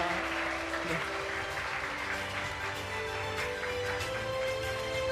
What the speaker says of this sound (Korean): 계속해서 박수로 우리 목자님들께 감사의 마음 전하도록 하겠습니다.